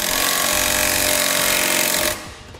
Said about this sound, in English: I'm going to tighten up those bolts holding the plate on.